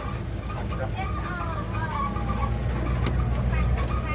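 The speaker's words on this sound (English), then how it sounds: "The geese." Geese honk repeatedly over steady road and traffic rumble, with people talking in the background.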